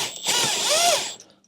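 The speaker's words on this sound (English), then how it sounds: "Let me change the position of my drill." A power drill unfastens the fairing fasteners on a Tesla Cybertruck, giving one close whirring burst of about a second that rises and falls in pitch, with no talking.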